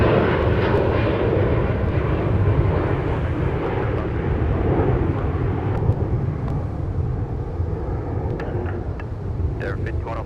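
A Boeing 747-8 taxiing at Minneapolis–St. Paul airport, its jet engines giving a loud, continuous roar that holds steady throughout, with someone talking over it.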